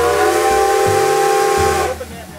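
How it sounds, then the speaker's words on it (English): The steam whistle of the American Freedom Train 250, used on Nickel Plate Road steam locomotive 765, blows a loud sustained chord that cuts off near the end, leaving hiss and rumble. "the whistle for American Freedom Train 250 went out on the railroad for the first time"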